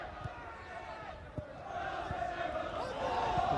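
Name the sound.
sellout football crowd at Shielfield, Berwick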